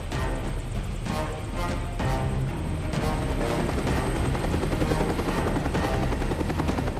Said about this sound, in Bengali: মনে হচ্ছে কোনো হেলিকপ্টার এদিকে আসছে।